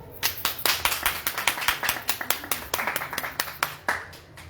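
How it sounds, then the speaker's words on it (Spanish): Audience clapping at a book presentation, a burst of distinct, fairly close handclaps from a modest crowd, steady and uneven in rhythm, with faint voices in the background. "Un aplauso, por favor."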